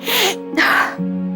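A woman sneezes twice at close range indoors, the first burst followed by a second sharp sneeze, with a faint steady hum underneath and no talk during the sneezes.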